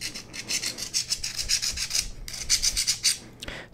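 A hand rasp files a nylon paracord whip handle in quick repeated scraping strokes, close and fairly quiet, in two rhythmic runs with a short pause between, no voices.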